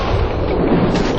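Explosion in the video game Max Payne 2, a loud, dense low rumbling boom filling the whole short moment with no talking over it.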